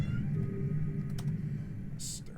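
A house cat meows in drawn-out, low, wavering cries close by, followed by a brief sharp hiss-like burst near the end.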